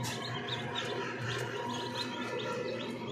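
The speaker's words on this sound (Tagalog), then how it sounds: "Dami na naman nating mga sisiw na harbisin." A dense chorus of many newly hatched chicks peeping continuously, high overlapping chirps crowding together at close range in a hatchery.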